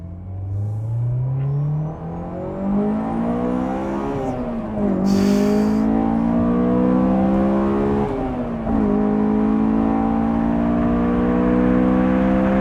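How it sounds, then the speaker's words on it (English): A Honda S2000 engine revs hard and loud, pitch climbing and dropping through several throttle blips, with a deep exhaust roar throughout. "If you want to drive fast, you have to make the engine sing."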